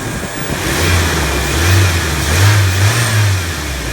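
A car engine hums loudly and steadily, rising and falling slightly in pitch as it revs, with no talking.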